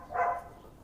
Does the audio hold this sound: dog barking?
yes